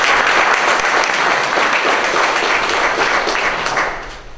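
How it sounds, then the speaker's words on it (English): Sustained applause from an audience at a dedication event, dense steady clapping filling the room for several seconds before starting to fade near the end. "let's give her a round of applause as well."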